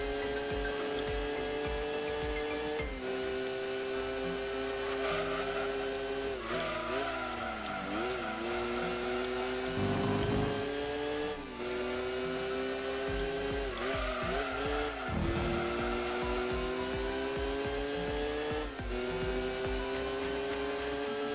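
BMW racing in Gran Turismo 2, its engine droning loud and steady with rising and falling revs through gear changes, plus brief tire squeals, running continuously with no talk.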